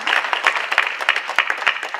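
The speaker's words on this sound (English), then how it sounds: "Let's give her a round of applause." Audience at a women's transformation summit clapping for a panel's media representative, a dense burst of fairly close applause with sharp individual claps standing out, sustained steadily for a couple of seconds.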